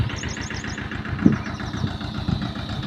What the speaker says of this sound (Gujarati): આપણે કવરાભાઈને દવા છાંટવા જે ટ્રેક્ટરમાંથી ઊભા છે ને એમની દવા છાંટવાનું ચાલુ છે.